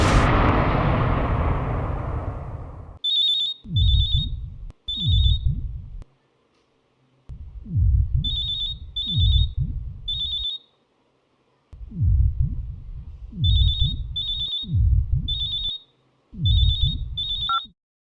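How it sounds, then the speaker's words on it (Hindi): Old-style telephone bell ringing in repeated double bursts, loud and close, with a sharp rumbling impact at the start and low thuds under each ring pair. "उस दिन जब फ़ोन की घंटी बजी"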